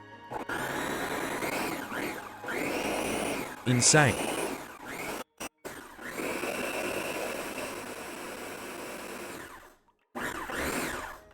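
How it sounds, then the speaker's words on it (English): A blender whirs loudly while blending ingredients into a paste for koobideh hotdogs, running in long buzzing bursts with brief stops and restarts, close up, with someone talking over it. "This blender about to go feral."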